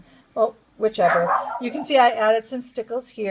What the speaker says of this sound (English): I'm sorry about the dogs.